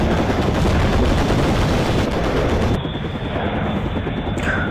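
A fighter plane fires its gun in a video game, with dense rapid gunfire over a loud continuous aircraft roar that stays steady throughout.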